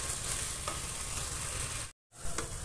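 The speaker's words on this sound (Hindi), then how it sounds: "इसको तब तक भूनेंगे, मसाला तब तक भूनेंगे जब तक मसाला तेल ना छोड़ दे।" Garam masala paste fries in hot oil in a pan for a chana dal curry, giving a steady, close, continuous sizzle with faint stirring scrapes and a short silent break near the end.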